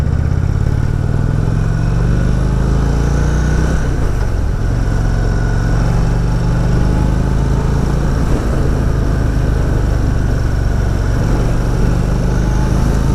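Indian Springfield Darkhorse motorcycle's big engine roaring loud and close, a continuous deep throb with shifting pitch as it accelerates and changes gears, alone without talk.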